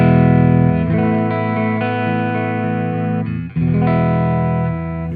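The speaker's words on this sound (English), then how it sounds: "And clean on a neck pickup, it sounds like this." An electric guitar, a Fano Omnis MG6 on its neck pickup through an octave pedal setup, plays sustained clean chords that ring out and change once midway, loud and alone.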